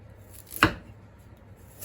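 A single crisp chop of a Japanese kitchen knife into a thick vegetable on a board, then quiet, with the start of another cut at the very end.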